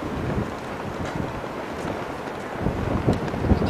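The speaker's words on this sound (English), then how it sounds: "Like the wind's blowing pretty strong out here." Strong outdoor wind buffets a microphone on a Colorado family vacation, a steady rough rumble with gusty thumps that grow slightly louder toward the end.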